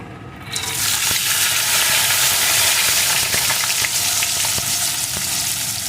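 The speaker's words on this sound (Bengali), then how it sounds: "বড়িগুলোকে লাল লাল করে ভেজে নেব" Lentil dumplings (bori) drop into hot oil left from frying katla fish, setting off a loud, dense, continuous crackling sizzle at close range after a quieter first half-second, with faint ticks of spatter throughout and no talk.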